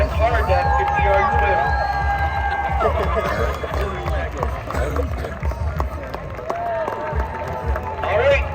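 A festival crowd at a survival suit race in Kodiak, Alaska cheers and shouts for swimmers finishing a 50-yard swim, with scattered claps and an announcer's voice over the steady outdoor din.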